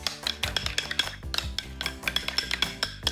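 A spoon rapidly whisks seasoned yogurt with salt and cumin in a bowl, giving quick, rhythmic clinking and tapping against the dish, close and steady, with no talking.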